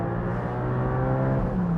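A naturally aspirated Porsche flat-six engine revs hard toward 8,000 rpm, its loud, steady mechanical howl and noisy exhaust holding a sustained pitch close by, with no voices over it.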